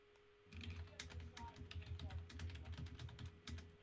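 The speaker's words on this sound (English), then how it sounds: "Why are you typing in my ear?" Rapid, irregular clicking of fingers typing on a computer keyboard close to a microphone, a steady faint hum underneath and no voices.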